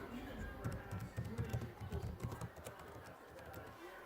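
Quiet tapping of keys on a computer keyboard comes in a quick irregular run while text is entered into design software for a vinyl cutter. A voice talks faintly underneath.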